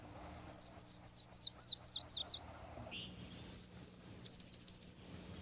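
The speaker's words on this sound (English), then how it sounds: "The yellow-throated warbler arrives early in spring on its nesting grounds" A yellow-throated warbler sings a clear series of bright, repeated whistled notes that descend in pitch, followed after a short pause by rising notes and a quick, high trill, all close and distinct with no voices.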